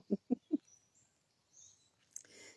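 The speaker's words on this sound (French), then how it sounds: "Vous entendez les oiseaux, c'est trop bon." Outdoor birdsong: three short loud calls in quick succession up front, then faint, sparse chirps and tweets in a quiet setting with no talking.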